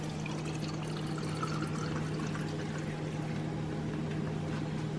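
A cup of water is poured onto brown rice in a steady, continuous trickling pour lasting several seconds, close and fairly quiet against a low background hum.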